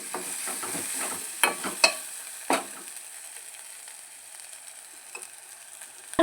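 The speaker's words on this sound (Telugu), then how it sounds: "ఇలా కొంచెం పసుపు అల్లం చేస్తే కొంచెం వాసన పోయే వరకు వేయాలి" Ginger and turmeric frying in a pan as the base for a chicken curry: a close, steady sizzle broken by several sharp spatula scrapes early on, then settling into a quieter hiss.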